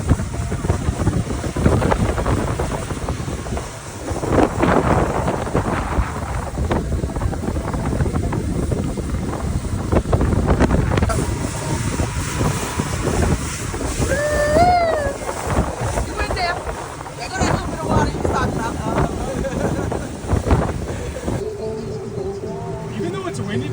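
Boat pounding across a choppy, windy sea off Belize, with steady wind buffeting and rushing water and hull noise throughout; people talk now and then underneath.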